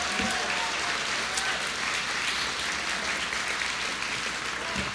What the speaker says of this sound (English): Let's give another round of applause to all of our finalists.